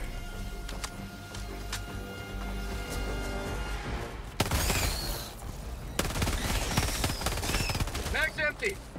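Machine gun fire in Helldivers 2 on a solo extreme-difficulty mission, bursts of rapid automatic shots starting mid-clip and continuing in loud volleys amid game effects, with a voice speaking.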